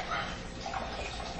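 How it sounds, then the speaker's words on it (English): Beef broth pours from a can into a measuring cup for chili, a steady, close liquid splash and gurgle that runs without a break for a second and a half. "I'm just going to pour it to"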